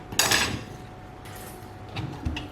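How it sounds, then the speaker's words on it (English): A knife chops bitter gourd into small pieces on a board, one sharp close knock followed by a few lighter, irregular taps over a quiet kitchen. "we'll chop this up into small pieces"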